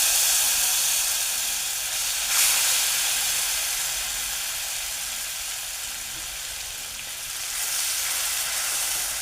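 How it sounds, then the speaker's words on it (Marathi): Ground spice paste (vatan) hitting a hot pan with curry leaves and turmeric for a chickpea chole curry, giving a steady loud sizzling hiss that swells briefly twice as more paste goes in; no voices. "आता हे वाटण केलंय ते मी टाकणार आहे ह्याच्यात थोडं थोडं"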